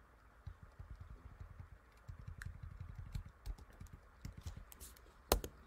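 Computer keyboard keys are pressed in quick clusters to enter tmux shortcut combinations, with soft, muffled low taps and a sharper click near the end, faint and close over a quiet room hiss.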